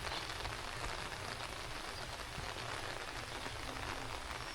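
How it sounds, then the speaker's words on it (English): Heavy rain pours steadily in Bohol, a dense continuous patter and hiss on surfaces nearby, with no voices. "it's raining pretty hard"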